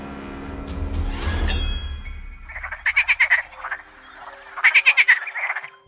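A toad croaks in two rapid, pulsing trills, each a quick run of raspy notes, following a brief clinking clatter at the start.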